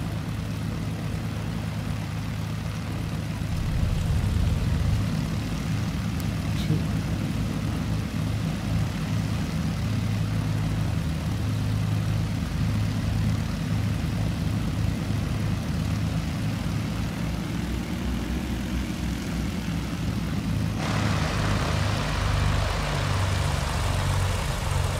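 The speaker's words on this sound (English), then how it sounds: "And I'll be sure to start the left engine this time." A BN-2 Islander twin-engine propeller plane in Microsoft Flight Simulator drones with a steady low engine rumble and hum that swells slightly early on and keeps running alone for the whole stretch.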